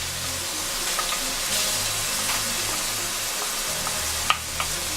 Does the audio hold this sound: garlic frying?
yes